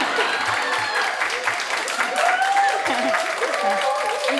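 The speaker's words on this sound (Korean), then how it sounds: "박수!" Audience applause at a community welfare forum, a dense, steady patter of many hands clapping, fairly loud and near, with a few voices mixed in.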